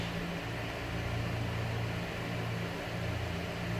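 A mixer grinder powders roasted gram, cardamom, clove and fennel, giving a steady, unbroken motor whir with a low droning hum that holds at an even level throughout.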